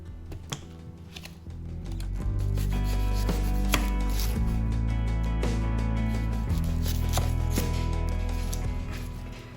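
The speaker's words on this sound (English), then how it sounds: "It's always such a horrid job, dicing up, a ton of onions" A knife dices a large pile of onions on a board, quick rhythmic chopping taps running under a steady background of music.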